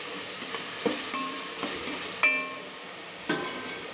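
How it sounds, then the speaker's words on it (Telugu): Ginger garlic paste fries in a pan with a soft, steady sizzle, interrupted by several sharp clinks and scrapes of a spoon stirring against the metal, close and without talk. "అల్లం వెల్లుల్లి పేస్ట్ వేగింది"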